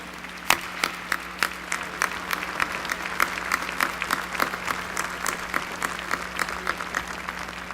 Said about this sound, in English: let us give a tremendous round of applause